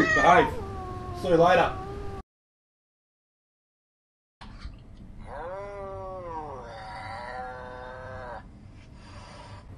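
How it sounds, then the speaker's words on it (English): Cat meowing and yowling in long, drawn-out wavering cries after a silent gap, fairly loud and close; someone talks briefly at the start. "that's our cat, mate"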